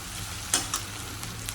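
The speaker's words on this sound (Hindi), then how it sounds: "इस प्याज को ना थोड़ा हल्का सा ब्राउन करेंगे" Onion lightly browning in a pan, a soft continuous fry with a couple of brief scraping stirs, close and fairly quiet, no voices.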